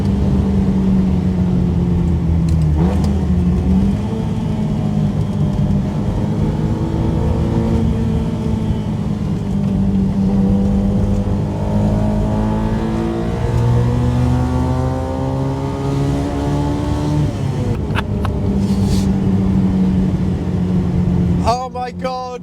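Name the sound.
1968 Honda S800 car engine revving hard while accelerating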